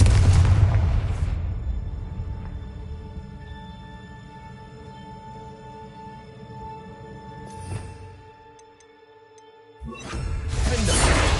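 A Confringo spell blast in Hogwarts Legacy opens with a loud burst, fades into a humming, droning tail, and ends with a second heavy blast near the close.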